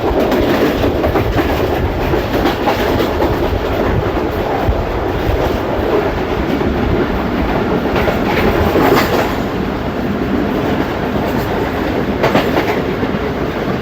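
Steady, loud rumble of the Tezgam 8 Down train rolling along the rails near Mankiala railway station, with continuous rattling and clatter throughout and no voices.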